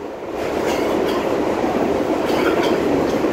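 A passenger train running on its rails produces a loud, continuous rumble with clickety-clack wheel beats and faint squeals, heard from inside the car with no talking.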